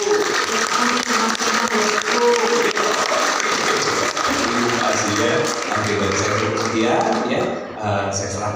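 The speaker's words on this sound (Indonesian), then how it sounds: "Tepuk tangan sekali lagi untuk kita semua." An audience at a religious gathering claps together in a thick, continuous burst that gradually thins and fades, with speech mixed in toward the end.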